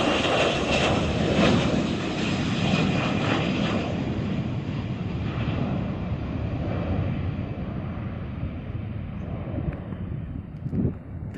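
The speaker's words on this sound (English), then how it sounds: "here is the Cardig Air Boeing 737-300 takeoff from runway 17 Sultan Iskandar Muda International Airport" A Cardig Air Boeing 737-300F cargo jet takes off from runway 17 at Sultan Iskandar Muda International Airport in Aceh, a loud, steady engine roar with wind rush that slowly fades as the aircraft climbs away.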